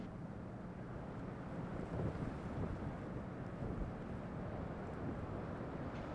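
Space Shuttle Atlantis on its STS-122 launch climbing with three main engines firing, a steady, distant, dense roar with low rumble holding evenly throughout, no voices.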